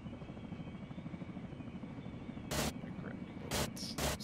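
A helicopter in a military video game throbs with a steady, close rotor chop and engine whine, continuous under a few sharp bursts of static-like noise.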